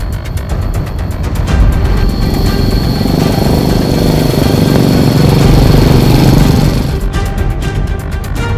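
Motorcycle ridden through rough, winding hill country in West Java, its engine droning loudly and steadily throughout with slight rises in revs, close to the rider and without talk.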